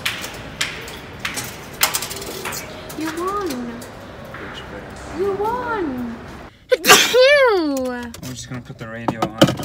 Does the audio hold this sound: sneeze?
yes